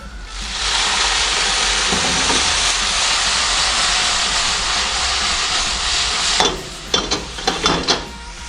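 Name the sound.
water sizzling and evaporating in hot pan with honey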